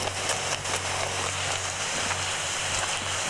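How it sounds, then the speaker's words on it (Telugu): Heavy rain falls at night in a dense, continuous patter with scattered sharper drops over a low steady hum. No voices are heard. "ఇప్పుడైతే నైట్ అయితే బాగా వర్షం పడుతుంది కదా"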